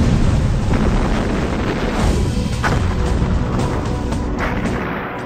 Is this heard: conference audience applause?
no